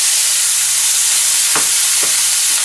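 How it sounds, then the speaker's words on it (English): Sausage dumped into a hot skillet sizzles with a loud, steady frying hiss, marked by a couple of brief scraping knocks, with no talk. "I'm just going to dump this sausage right into our skillet. Woo! Listen to that sizzle"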